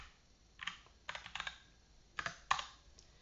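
Typing a short ls -al command on a computer keyboard, a quick cluster of light key clicks in a few bursts over about three seconds, close and quiet, with no talk.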